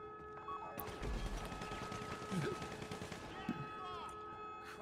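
Gunfire crackles in GTA Online during a heist, with rapid bursts of shots and explosions in a busy, dense mix, quiet and partly under overlapping game noise.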